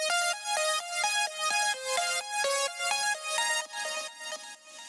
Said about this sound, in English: The lead is 3 layers, and they mirror the layers of the main synth.